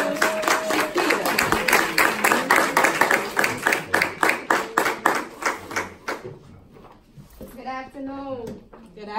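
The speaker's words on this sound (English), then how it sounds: "if we can give her a warm round of applause" A graduation audience breaks into a burst of rhythmic hand clapping that tapers off over several seconds. A voice begins speaking into the microphone as it fades.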